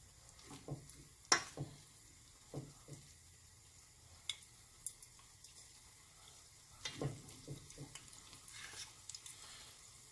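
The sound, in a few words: onion bhaji batter frying in hot oil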